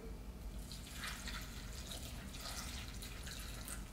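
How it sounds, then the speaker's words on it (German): Water pours into a small pot of chopped rhubarb stalks, a soft steady splashing and trickling stream, faint and continuous with no talk. "ein bisschen Wasser, dass man das Wasser auf jeden Fall sieht, aber soll das jetzt nicht bedecken"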